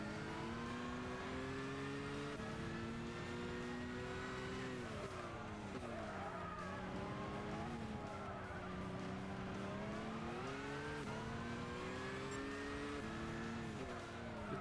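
Race cars in Gran Turismo 6 at Brands Hatch in the rain, engine whine rising and falling through gear changes and corners with tire squeal, continuous and loud in the game mix.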